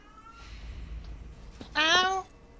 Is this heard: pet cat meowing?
yes